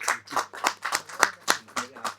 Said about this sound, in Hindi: सबसे पहले तो आधे मिनट की ताली बजनी चाहिए